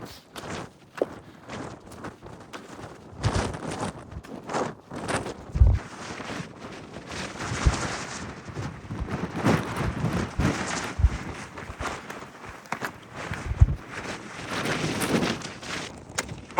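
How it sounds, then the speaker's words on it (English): Strong, gusty wind buffets the microphone on an exposed Lake District fell, roaring in uneven surges over the whole stretch, with hurried footsteps crunching beneath it. "It's very windy."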